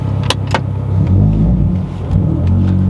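A Honda Civic Type R FN2 with a K24 engine rumbles low and close on a test drive in Malaysia, with a steady engine drone and a few faint clicks over the top.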